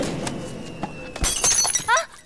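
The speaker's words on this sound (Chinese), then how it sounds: "杯子摔碎了。" A drinking cup falls and smashes on the floor during a sudden indoor power cut in a campus drama. A sharp crash is followed by a scatter of bright, tinkling shards over faint room noise.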